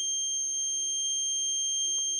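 A drunk-driving prevention system in a car sounds a steady, unbroken electronic buzzer alarm, a continuous high tone held at even loudness throughout.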